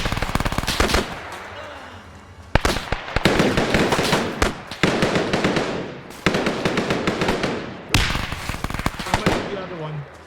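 Grenades and explosive charges go off in a World War II video game clearing Japanese tunnels, several loud bursts of blasts with crackling rapid debris and gunfire-like rattles, each burst fading before the next.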